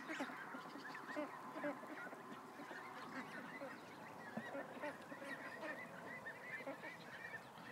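A crowd of ducks gathered close by, honking and quacking in overlapping bursts at moderate volume for several seconds, with no talk over them.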